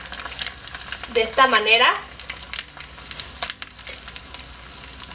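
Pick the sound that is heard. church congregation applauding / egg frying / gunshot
egg frying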